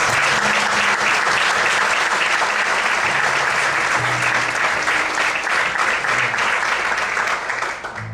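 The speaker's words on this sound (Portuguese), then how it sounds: "Você pode aplaudir a Deus nessa noite?" Loud, sustained applause from a church congregation at an evening service, continuous and full for several seconds before thinning out at the end, with music underneath.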